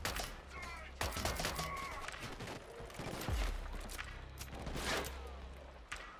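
Rapid bursts of gunfire in the video game Killzone: Shadow Fall, sharp cracks and rattling volleys, close and loud, scattered irregularly through a tense firefight with a heavy low thump near the middle.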